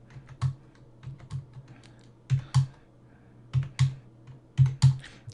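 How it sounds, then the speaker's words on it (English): Data being typed on a computer keyboard: a series of crisp, close keystrokes in uneven bursts, mostly paired or clustered taps separated by short pauses. "this is a chart where you just simply start typing in your data."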